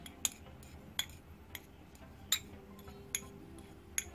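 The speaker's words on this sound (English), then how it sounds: "just give that a good stir and make sure there aren't any clumps" Paint freshly cut with thinner is stirred in a container for mecha model airbrushing, giving sharp, spaced metallic clinks of the stirring tool against the sides, roughly one tap every half second to second, over a quiet hum.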